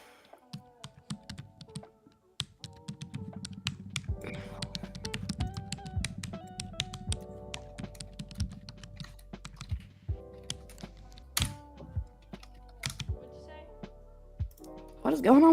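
Rapid, clacky keystrokes on a computer keyboard go on throughout, with sharp clicks and bursts of typing over a low background with music-like tones.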